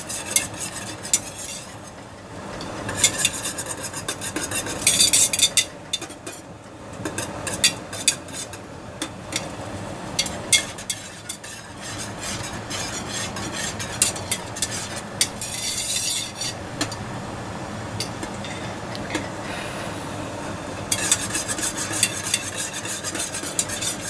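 Apple cider juice boils hard in a pan at a full rolling boil, a loud dense bubbling hiss broken by repeated scraping and clinking of a utensil stirring against the pan, close and continuous throughout.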